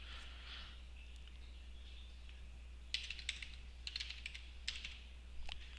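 Quiet, close keystrokes on a computer keyboard as a password is entered, sparse taps at first, then quicker clustered bursts, over a steady low hum and no talking.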